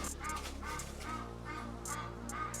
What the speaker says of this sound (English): Very loud duck.